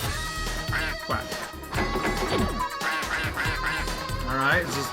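A cartoonish duck in the EarthWorm Jim 2 video game quacks again and again among game music and effects. The quacks are fairly loud and run throughout, and a person talks over part of it.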